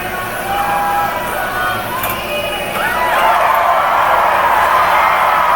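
Hometown arena crowd at the U.S. Olympic women's gymnastics trials, a steady roar of cheering and whooping that swells louder in the second half, with scattered voices inside the wash of noise.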